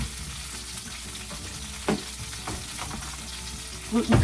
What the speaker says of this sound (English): I have them frying on my frying pan